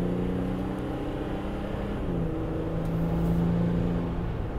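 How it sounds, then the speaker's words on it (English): Inside the cab of a Ram EcoDiesel pickup with a fully deleted exhaust, the engine drones under hard acceleration at highway speed, a steady low rumble with a rising tone and no talk. "I'll actually stand on it so you can see what it sounds like in the cab with a completely deleted exhaust."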